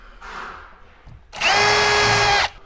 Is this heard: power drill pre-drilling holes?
yes